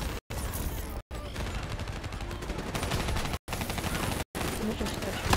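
Rapid automatic gunfire from a video game rattles in long continuous bursts, loud and close, broken by a few short silent gaps.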